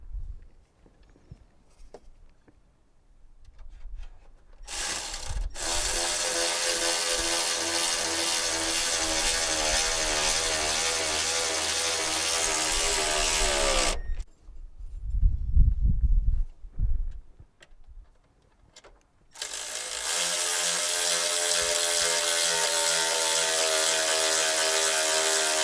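Ratchet wrench tightening the tensioner bolt on an alternator belt tensioner of a Toyota Celica, heard as long, steady runs of close mechanical clicking broken by short pauses and knocks.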